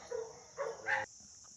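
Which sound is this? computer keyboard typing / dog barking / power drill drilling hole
dog barking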